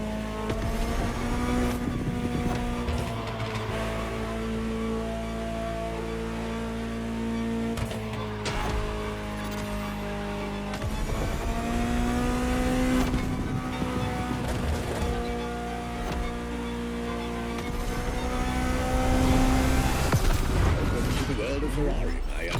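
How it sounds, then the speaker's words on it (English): A Ferrari supercar in the video game The Crew Motorfest drives steadily, its engine droning with shifting pitch through gear changes, close and continuous, with a voice speaking over parts of it. "Just listen to the car you're driving."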